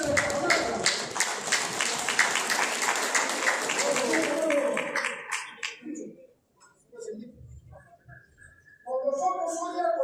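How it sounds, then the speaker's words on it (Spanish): Applause from an audience at a gathering of rural community leaders swells loudly at first, then fades out, leaving scattered sounds and talking voices in the later part. "Fuertes aplausos"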